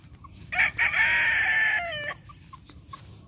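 A Boston Black gamefowl rooster crows once, close and loud, a long sustained call with a rising start and a falling tail, followed by a few faint short clucks on a farm.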